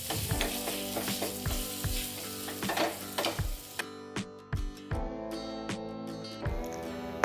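Ginger, garlic and chili paste with curry leaves sizzles steadily in hot oil for a tadka over millet khichdi, with clinking stirring taps throughout and no voices.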